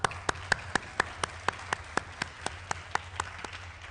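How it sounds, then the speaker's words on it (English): A single person claps steadily at a school district address, about fifteen crisp, evenly spaced claps in quick succession, close and fairly quiet against a low hum. "I'm going to clap for that"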